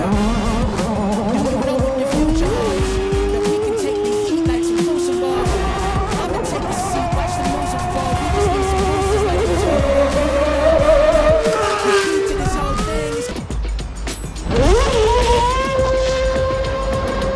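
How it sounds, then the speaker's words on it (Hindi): A Red Bull F1 racing car tears through the streets of an ordinary city, its loud, high-pitched engine revving up and down in wailing sweeps, with a sharp rising rev near the end. "एक F1 कार को, जो कि एक रेसिंग कार होती है, उसे एक नॉर्मल सिटी में दौड़ाया जा रहा है।"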